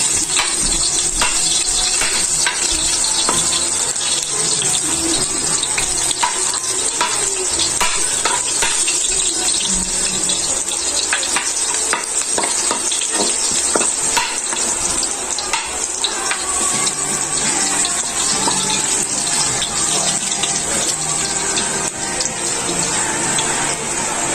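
Garlic fries in hot cooking oil in a pan for chicken tinola. A loud, dense sizzle crackles steadily from start to finish, close up, with no talk.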